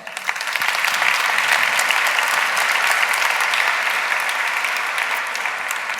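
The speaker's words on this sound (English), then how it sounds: "So please welcome with a warm applause" Warm audience applause greets a speaker at a corporate partner event, a sustained wash of many hands clapping, loud and steady for several seconds before easing slightly.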